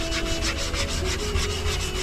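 Steady, continuous sanding of DMS Premium car body filler putty, a dense abrasive rasp with regular back-and-forth strokes, close and loud with no talking.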